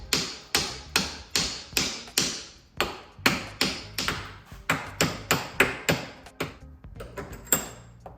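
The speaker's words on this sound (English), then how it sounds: "So we just kind of take the screwdriver and beat the crap out of it." Rapid, repeated metallic tapping and clanking as a screwdriver hammers on a stuck car starter solenoid, in a fairly steady rhythm with a few pauses.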